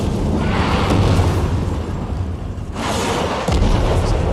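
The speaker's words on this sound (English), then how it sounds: "We're still being bombarded from orbit." Orbital bombardment in Warframe's Fortuna and Railjack gameplay demo: a heavy, continuous roar of explosions and rumbling blasts, loud and dense throughout, with a fresh, harder impact near the end.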